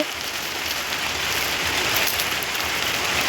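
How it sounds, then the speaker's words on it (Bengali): Rain falls outside in a steady, dense hiss of drops on surfaces, even and unbroken from start to finish, with no voices. "যেখানে আমি ভিডিও করি সেখানেই বৃষ্টি এসছে"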